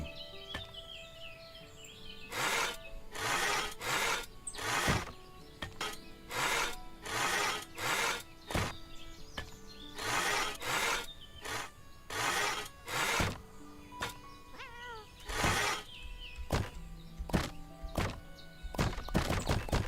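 Repeated sawing strokes on wood in the game Everdream Valley, a steady series of short rasping bursts with birdsong and light background music running between them.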